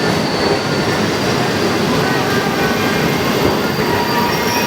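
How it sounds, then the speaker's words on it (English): Train noise on a railway platform in China on the way to Turpan, a steady loud rumble with wheel squeal and rail clatter throughout, no voices. "This is the train platform."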